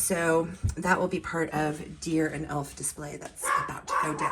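A dog barks in a home, a few bursts heard close by under steady talking from a person nearby.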